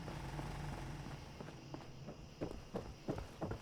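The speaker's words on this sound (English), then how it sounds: "like listen to the footsteps." Footsteps in the video game Fallout 4, played in survival mode: a run of soft, uneven steps over a steady ambient hum, growing slightly louder and sharper toward the end.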